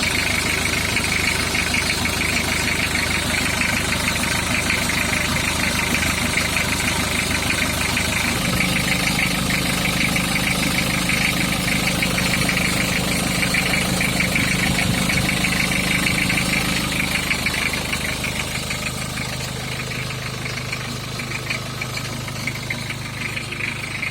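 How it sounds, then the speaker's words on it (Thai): A Nissan Urvan van engine idles smoothly and steadily at close range, a continuous low hum with a slight shift in tone partway through and no voices. "เครื่องยนต์นิ่งมากเลยนะครับ"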